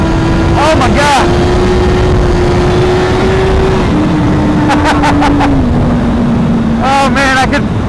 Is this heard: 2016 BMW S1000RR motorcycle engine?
yes